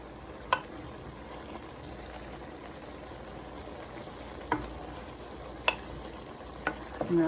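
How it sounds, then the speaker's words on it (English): Italian sausage and sweet peppers fry in a pan with a steady low sizzle, broken by a few sharp clicks and scrapes of a utensil against the pan, close and fairly quiet. "sweet peppers, soften up and cook with the meat"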